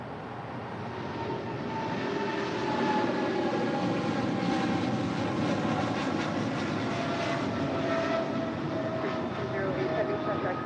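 Southwest Airlines jet departing at LAX, a loud, steady engine roar with whining tones held throughout and no break.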